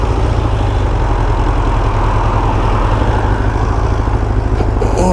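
A Honda CBR project motorcycle idles with the choke set while warming up, a steady, loud, close engine rumble with a constant low drone and no talking.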